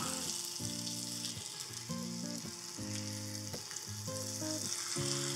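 Food sizzles steadily in a hot pan, a close continuous frying crackle with a few flipping scrapes.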